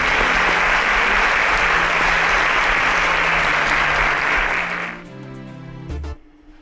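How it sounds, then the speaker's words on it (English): Loud audience applause from a crowd at a televised competition show, dense sustained clapping over background music that fades out after about five seconds, leaving the music alone. "A round of applause for them, please."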